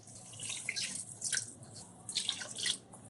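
Water is poured into a pan of browned Bihari-style keema mince, giving short splashing, trickling bursts up close with no talking.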